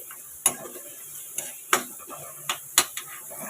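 Green chillies are stirred into a Mughlai egg curry in a pan, giving a handful of soft, scattered scraping knocks from the spoon over a quiet background.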